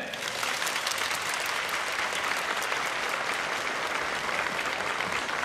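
A church congregation gives a young adults' group a big round of applause, dense steady clapping from many hands filling the hall, loud and continuous throughout.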